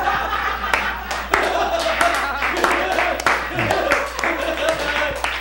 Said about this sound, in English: If you guys could cut down on the gratuitous applause